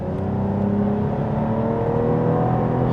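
A 2026 Cadillac CT5-V accelerates in its calmer tour mode, a loud, steady engine hum and whir rising smoothly from inside the cabin, continuous throughout with no speech.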